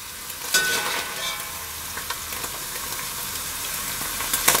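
Lamb mince sizzles steadily in a hot pan for shepherd's pie, a continuous close frying hiss punctuated by a few sharper scrapes and stirs.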